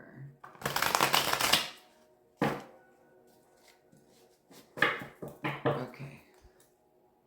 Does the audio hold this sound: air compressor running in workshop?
no